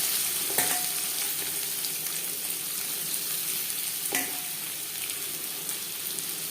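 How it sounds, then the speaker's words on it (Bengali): Chopped onion frying in hot oil left over from frying pabda fish, a loud continuous sizzle with a couple of brief clanks from stirring, close up and with no talking. "দিয়ে দেবো পেঁয়াজ কুচি।"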